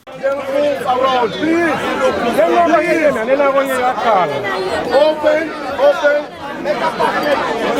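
A crowd gathered at a graveside for a final viewing of a body chatters in a dense, close babble of overlapping voices that continues throughout.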